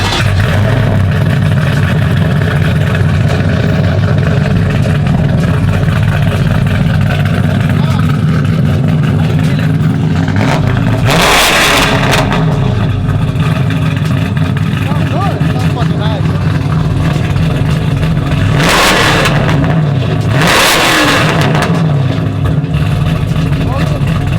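A car engine rumbles steadily and loudly close by, with a couple of sharp revs swelling above the idle.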